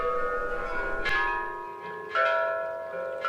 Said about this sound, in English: visitors can strike the ancient bells in front of them and match them up with the keys of a modern keyboard